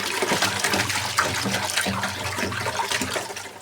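Cut fish pieces are rinsed in water, with continuous splashing and sloshing close by for a few seconds, steady and fairly loud with no talk over it.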